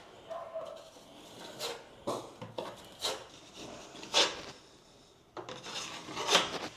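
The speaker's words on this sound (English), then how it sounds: "we're going to sand it so it's nice and flat" Drywall top coat being sanded flat over a patch, close scratchy rasping strokes in uneven bursts with short pauses between them, fairly quiet and without talk.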